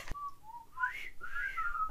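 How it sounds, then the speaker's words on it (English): A person whistles a short, wavering tune of a few sliding notes, clear and close with no talking. "I tripped and I accidentally whistled, and then I was like, I have to do that again."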